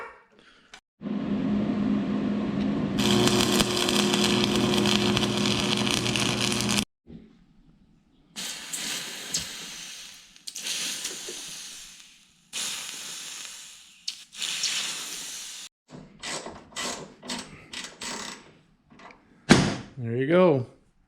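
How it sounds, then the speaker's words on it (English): Welding a lever handle onto a dune buggy: a long steady crackling hiss of the arc, then a series of shorter bursts of buzzing welding sound separated by pauses. "I'm gonna weld it up like so."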